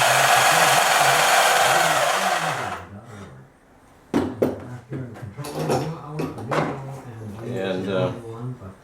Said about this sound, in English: I'm making the last of the cut here by turning the saw around